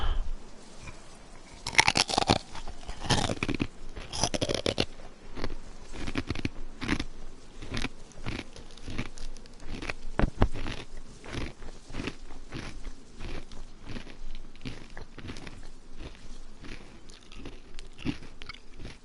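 Snacks crunch steadily through a long run of close, crisp bites and chewing, with irregular crackling bursts and no talk.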